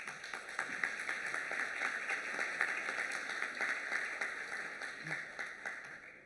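An audience at a shipping technology conference's charity ceremony claps steadily, a dense, moderately distant applause that holds evenly throughout.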